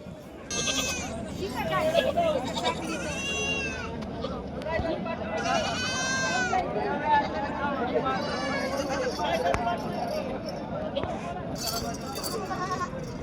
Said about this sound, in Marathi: अशा क्वालिटीत काटेवाडी शेळ्या आहेत मित्रांनो.